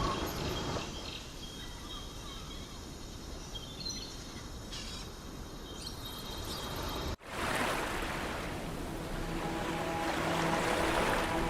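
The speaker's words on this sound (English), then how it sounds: "the sound of the waves" Ocean waves washing in an animated episode set by a shallow sea, a steady broad surf wash that cuts off briefly and returns, with faint bird calls and no talk.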